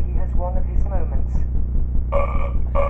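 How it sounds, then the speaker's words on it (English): A person lets out a throaty burp with a few voiced, grunting sounds, close and loud over a low background rumble. "just burped"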